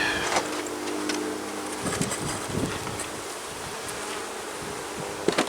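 Honey bees hum and drone steadily around an open, crowded hive of ten frames during an inspection, a dense close swarm sound with faint rustling and handling noises mixed in throughout.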